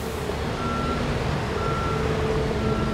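Reversing beeps from a truck in the Bau Simulator construction game, a steady series of evenly spaced electronic beeps over a constant low engine rumble.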